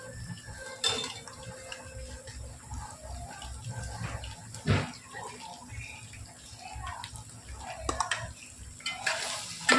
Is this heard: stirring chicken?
yes